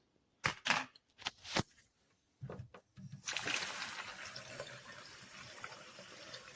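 Soaked popcorn grain is rinsed with tap water, beginning with several short splashing bursts and then settling into a steady running pour, fairly quiet and close, with no talking.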